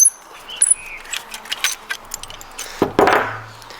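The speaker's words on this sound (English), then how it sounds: "Stick that on there and just cut the end off that pipe." A 15mm automatic pipe cutter trimming the end off a plastic pipe, with a series of light clicks and rattles as it turns, then a sharper snap and brief rasp as the cut finishes, close and clear.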